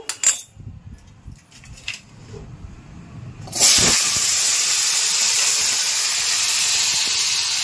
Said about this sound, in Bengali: আলুটা ভেজে নিচ্ছি, আলুটা একটুখানি ভেজে নেব